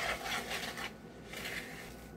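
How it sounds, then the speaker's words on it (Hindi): Coconut cookie batter with grated coconut, salt and cardamom is mixed in a bowl, making faint, close rubbing and scraping strokes in two soft bursts separated by a brief pause. "इसको मिक्स करेंगे।"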